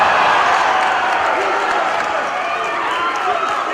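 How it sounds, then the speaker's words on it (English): A wrestling crowd at an APW show roars wildly for Tommy Dreamer, a dense, loud and continuous wash of cheering and shouting with no breaks. "Crowd going wild for Tommy Dreamer."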